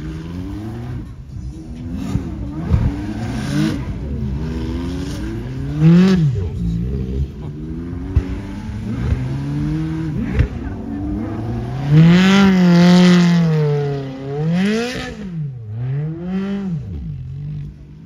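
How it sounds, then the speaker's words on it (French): Ferrari 812 GTS engine wailing through repeated revs and a long sustained high-rpm howl while doing donuts at a car event, loud and nearby, with tire squeal and crowd chatter underneath. "ce que vous entendez, c'est une 812 GTS qui fait des raids"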